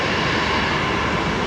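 An Airbus A220 jet rolling for takeoff at Brisbane Airport at night, a loud continuous engine roar with no voices over it.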